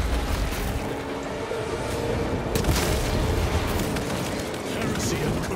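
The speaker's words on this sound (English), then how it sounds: "Flying shock grenade." A shock grenade in the video game Space Marine 2 detonates with a loud, broad burst of crackling noise amid constant heavy battle rumble, with a voice talking over the din.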